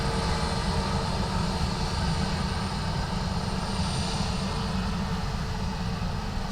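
A loud, sustained airplane engine roar fills the air at Dublin Airport in low visibility, a steady broadband rumble with a faint whine, heard alone without talk.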